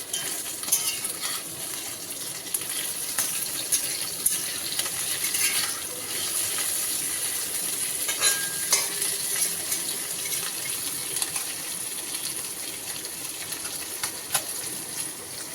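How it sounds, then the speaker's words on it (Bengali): Small fish fry in a pan with a steady, bright crackling hiss that holds at an even level throughout, with faint scattered pops and no talking. "এদিকটা দেখো ছোট মাছ ভাজা বসিয়েছি"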